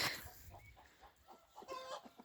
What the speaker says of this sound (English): Some of the chickens are in the small pen and some have gone out.